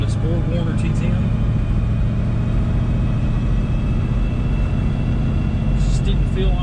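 A 1979 Camaro Z28 with a Borg Warner T-10 four-speed manual drives along with a loud, steady, low engine and road drone from inside the car, and a voice talks over it.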